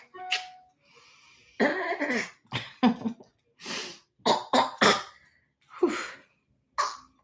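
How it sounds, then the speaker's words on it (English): A person coughs several times in short, harsh bursts with pauses in between, close by and fairly loud. "That's a nasty cough."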